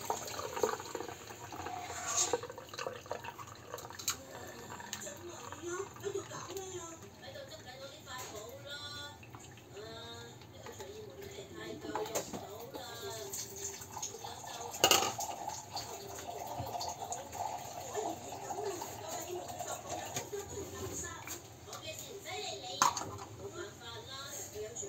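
An object being washed under a running kitchen tap, a steady stream of water splashing and dripping with faint clinks of pots, under ongoing talk.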